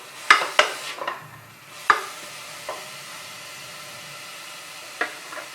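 Crushed ginger and garlic frying in a pan for a Madras meat dish, with a few sharp scraping strokes of a spoon over a soft, steady sizzle, the knocks spaced irregularly and fairly close.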